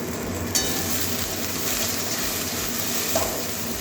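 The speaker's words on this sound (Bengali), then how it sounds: "এবারে ভালো করে ভেজে নেব।" Cumin powder and Kashmiri red chilli powder fry in a pan for mung dal with okra, giving a steady, moderate sizzle with a couple of faint clicks and no talking.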